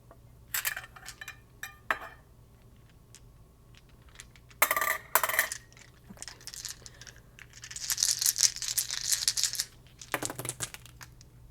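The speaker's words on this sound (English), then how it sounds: "So we're going to roll 7 of these mystery story cubes for you." Seven mystery story cubes rattle and clatter as they are shaken and rolled onto a hard surface, scattered bursts of knocking and sliding clicks with quiet pauses between them.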